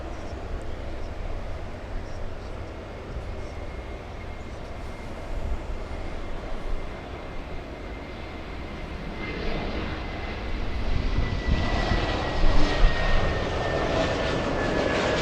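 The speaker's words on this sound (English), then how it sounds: "That is a pretty new, just under 1 year old A321neo. Just delivered to United." A United Airbus A321neo jet, just under a year old, at LAX airport: a steady, distant engine roar that swells louder and rougher toward the end as the jet draws nearer.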